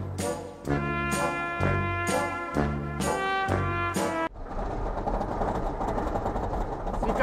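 Goliath roller coaster at Six Flags Great America during Fright Fest: a series of rhythmic tonal pulses that gives way to a loud, continuous rushing rumble as the ride runs.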